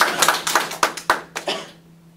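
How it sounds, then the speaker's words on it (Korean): On a Korean talk show about Bitcoin regulation, a handful of hands clap in a short sparse burst, about six or seven distinct claps close to the microphone, fading out within two seconds. "박수 한번 주세요"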